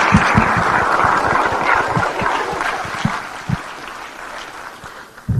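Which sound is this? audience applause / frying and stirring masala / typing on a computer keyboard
audience applause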